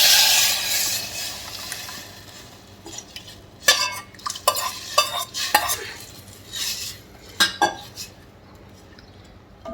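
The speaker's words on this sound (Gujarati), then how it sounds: "આ આપણો વઘાર ઉકળી ગયો છે, તો હવે આપણે આ દાળ છે એ દાળને એમાં એડ કરીએ" Traditional Gujarati dal poured into a sizzling tempering in a pot, starting with a bright hiss, then a run of uneven clinks and scrapes of a spoon stirring against the metal pan.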